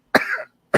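A man coughs twice, close and loud: a harsh first cough that trails into a rasp, then a second short cough after a brief pause.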